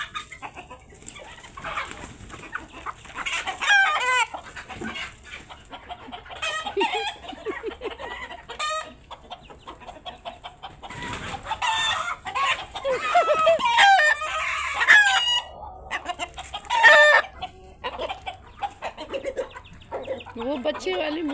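Chickens on a farm, a hen with chicks, cluck and call in repeated bursts at close range, with a rooster-like crow among them and a person talking at times.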